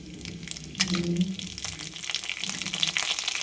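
Mustard seeds, dried red chilies and curry leaves crackle and sizzle in hot oil in a home kitchen, a steady frying hiss with a few sharp pops, close and moderately loud, with faint clinks and no talking.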